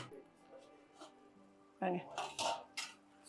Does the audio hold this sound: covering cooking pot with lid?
yes